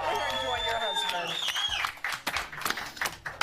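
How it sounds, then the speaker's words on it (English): A television studio audience applauds for Lourdes. Dense clapping fills the room after a brief burst of cheering, and a voice can be heard over the applause. "A big round of applause for Lourdes"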